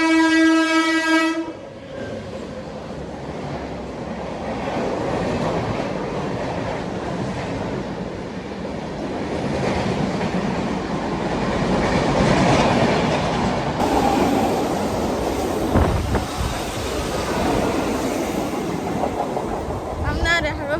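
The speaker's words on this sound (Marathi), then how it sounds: "ट्रेन आली." A train pulls into a Mumbai station. A loud horn blast opens, then a long rumble and clatter of wheels and carriages rises and fades as it slows, with background crowd noise throughout.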